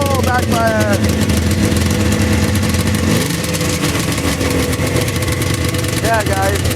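A 1997 Polaris Ultra 600 snowmobile idles loud and close after a cold start, its engine note rumbling steadily. A few brief revving chirps come near the start and end, and a voice talks over it.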